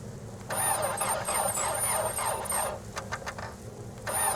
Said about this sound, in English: but my car wouldn't start.